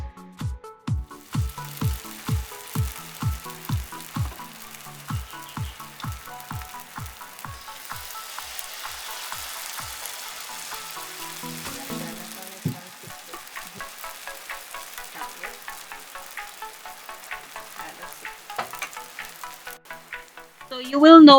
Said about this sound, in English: So you will know when to turn the fritters when you see that the edges have been fried.